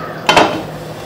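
A lid set down on a pan while an oats omelette cooks gives two quick close metallic clinks followed by a short fading ring over a faint hiss.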